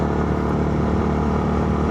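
A Yamaha Sniper 155 motorcycle on a solo ride toward Tagaytay hums with a steady, close engine drone that holds at an even level with no voices.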